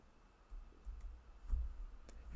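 A handful of faint, scattered keystrokes on a computer keyboard, quiet and close, with soft clicks spread irregularly over a couple of seconds and no talking.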